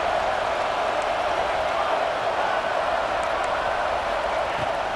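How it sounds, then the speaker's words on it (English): A home crowd in a college football video game, LSU against Clemson, roars in a dense, steady wash of cheering that holds at the same loud level throughout. "how nice is it to have the home crowd going absolutely bananas?"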